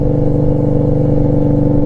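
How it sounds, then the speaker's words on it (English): Loud, close exhaust note of an Indian Scout 60 motorcycle, a deep steady rumbling drone with rapid low pulsing and no talk over it. "I miss the sound of that exhaust."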